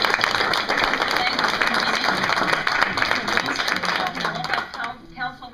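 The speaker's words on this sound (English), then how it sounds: "everybody can clap for them." Town council meeting audience gives a sustained round of applause, dense and steady in a hall, thinning out toward the end with a few voices underneath.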